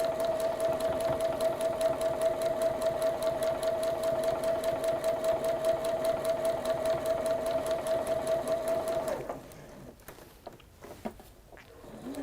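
Juki sewing machine stitching steadily at close range, a fast even mechanical rattle with a constant hum, running for about nine seconds before stopping, followed by faint handling sounds.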